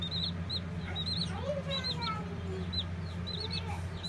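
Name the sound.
chicken clucking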